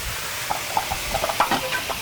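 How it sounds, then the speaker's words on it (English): White wine hits a hot pan to deglaze it while the bottom is scraped, giving a soft crackling sizzle with scattered pops and scraping stirs, close up and steady at moderate level. "Just pour that in that, and while you scrape the bottom, and that's going to get that tasty part out of the bottom"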